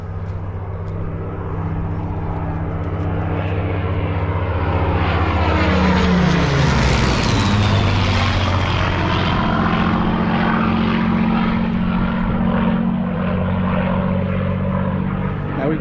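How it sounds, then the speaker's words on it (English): A Merlin-engined propeller aircraft roars past, its engine drone building to a loud peak overhead, then sliding down in pitch as it moves away. "I think the Merlin engine just trumps all of them"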